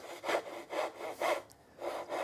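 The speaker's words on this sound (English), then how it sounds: "This is a dovetail saw" A dovetail saw cuts wood in five even back-and-forth strokes, a soft rhythmic rasp heard up close and fairly quiet, with a brief pause before the last strokes.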